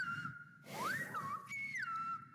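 A clear, melodic whistle glides up and down in pitch like spoken syllables, carried over a low background murmur for a couple of seconds.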